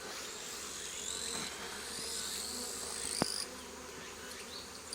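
Many honeybees hum and drone steadily up close around an open hive, a dense buzzing swarm with small shifts in pitch as they fly past.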